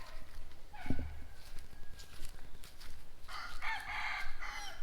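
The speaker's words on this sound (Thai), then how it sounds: "มีไก่มาเต็มเลย" Chickens crowing and clucking around a campsite at a resort, a short bright crow rising over a soft outdoor background with a brief thump early on, fairly near and without talking.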